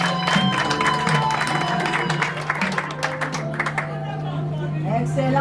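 Wedding guests at a French civil marriage ceremony applaud loudly in a steady, dense burst of clapping, with murmured voices and a low hum underneath throughout.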